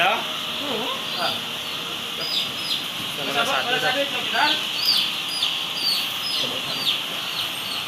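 Chickens at a poultry farm cluck and call repeatedly in the background while people talk nearby over a steady outdoor hum.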